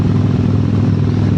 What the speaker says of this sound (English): Just an absolutely unique and beautiful motorcycle exhaust.